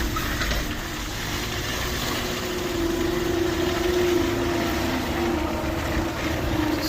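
A skid steer engine runs steadily nearby, a continuous rumbling drone with a sustained tonal hum, at a constant level with no voices over it.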